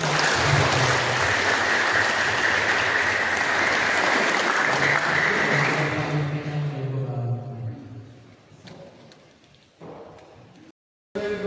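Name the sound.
wedding guests applauding the couple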